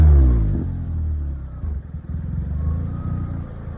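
A 2005 Caterham roadster replica with a Toyota 1.6 engine cranks and fires up nearby, catching with a loud burst and then settling into a steady, throaty rumble with a brief blip of revs.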